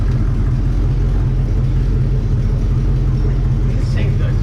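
Engine of a 1964 Chevrolet Malibu SS while driving, a loud steady low rumble heard from close by throughout, with people talking over it.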